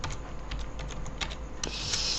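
Rapid typing on a computer keyboard while entering a title into a VBS script, a steady patter of key clicks with a couple of sharper strikes, close and clear with no talking.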